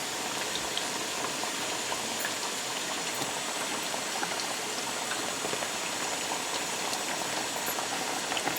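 Rice boiling in a pot of water for fried rice, a steady close bubbling and hissing that runs unbroken with no talk.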